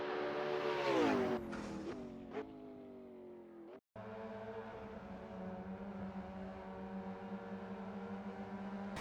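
A rallycross car engine in Dirt Rally 2.0 revs hard and climbs through gear changes, cuts out for an instant, then settles into a sustained, fairly faint drone with steady harmonic whine.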